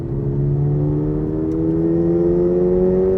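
A 2023 Toyota GR86 sports car engine revs out, its loud, smooth tone climbing steadily in pitch without a break, heard up close with no talking.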